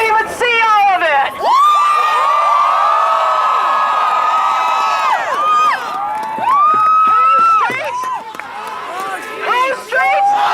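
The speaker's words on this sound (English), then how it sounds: "This crowd is so big I can't even see all of it!" A large protest crowd in Minneapolis, rallying in solidarity with Ferguson, cheers, whoops and yells loudly and continuously, with many voices overlapping close by.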